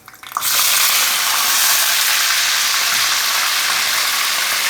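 Chicken pieces drop into hot oil with whole spices such as cinnamon, black cardamom, cloves and curry leaves, bursting into a loud, steady sizzle after a brief quiet start, close and continuous.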